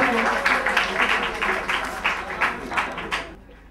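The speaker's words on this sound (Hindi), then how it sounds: "तालियों की गड़गड़ाहट से बुलाना चाहूंगी हमें अभिनव सर को" Audience at a Hindi Diwas event applauding to welcome a guest onstage, uneven clapping bursts swelling and fading under a nearby voice before dying away at the end.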